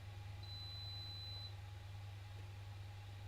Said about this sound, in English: Excuse the beeping from my coffee pot